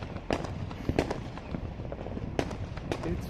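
Fireworks burst without pause over a city during a large celebratory show, with sharp cracks and booms at around 0.3, 1.0, 2.4 and 3.0 seconds over a continuous crackling rumble of shells going off in the distance.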